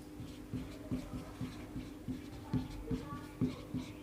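Chalk or marker strokes on a board during a hydraulics and fluid mechanics lecture on pressure measurement, a steady run of short rhythmic taps and scrapes, close and moderately loud, with no talk over them.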